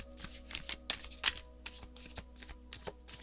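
Tarot cards shuffled by hand, a quick run of soft riffling flicks and taps with a few sharper snaps, fairly close and quiet, with no talking.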